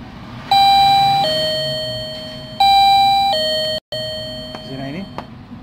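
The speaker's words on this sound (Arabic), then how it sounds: "لاحظ هسه يدق لنا الجرس" A water tank level alarm's electronic bell rings out as loud two-tone chimes, alternating in a steady ding-dong pattern with a brief break near the end, over a low background hum.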